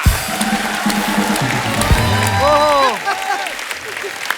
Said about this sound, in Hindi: दोस्तों एक बार जोरदार तालियां हो जाएं असरानी साहब, शक्ति सर, पेंटल साहब और टिक्कू सर के लिए